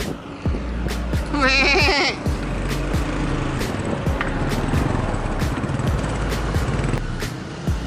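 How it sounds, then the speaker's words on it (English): A goat bleats in a wavering burst on private property in the Philippines, heard over steady outdoor traffic and background noise, with scattered short knocks around it. "Private property with a goat."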